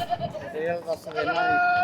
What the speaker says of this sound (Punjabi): ਤੇ ਆ ਬੱਕਰੀਆਂ ਮਾਨਾ ਦੇਖ ਲਾ